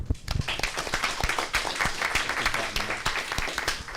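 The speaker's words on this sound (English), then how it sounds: "Please join me in a round of applause for Coach Rick Cormany." A round of applause from the audience at a school board meeting, moderately loud, with distinct individual claps in an uneven rhythm throughout.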